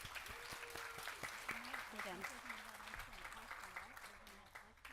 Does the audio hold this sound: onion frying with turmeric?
no